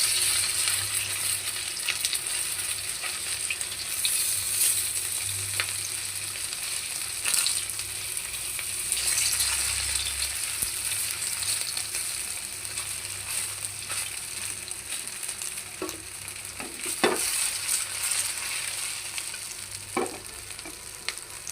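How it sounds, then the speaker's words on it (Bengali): Potato, pumpkin and noodle pakoras sizzle steadily in hot oil over medium-low heat, a continuous crackling fry broken by a few clinks and scrapes as the pieces are flipped. "দেখো আমি এবার এটা স্ন্যাক্স বা পাকোড়া যাই বলো না কেন উল্টিয়ে দিব।"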